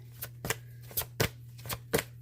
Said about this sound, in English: these are Debbie Malone's Angels and Guardian Angels cards